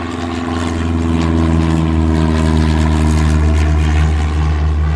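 Simulated aircraft engine roar in the Airport Madness game builds within the first second into a loud, steady propeller-like drone with strong low tones, holding continuously for the rest of the stretch with no talk.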